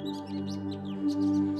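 Small birds foraging for food and insects on bare ground paved with old bricks give quick, high chirps and tweets in a rapid scatter, close and moderately loud.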